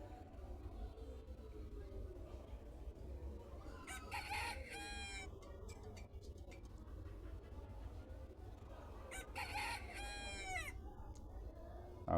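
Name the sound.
rooster crowing sound effect added in CapCut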